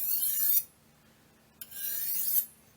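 A knife blade being sharpened freehand, two short raspy strokes of steel dragged across a stone, close and clear with a quiet gap between them.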